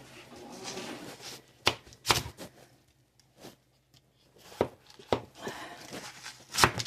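A knife cuts through a watermelon in a home kitchen, a few sharp crunching slices and thuds spaced irregularly between quiet pauses, close and soft.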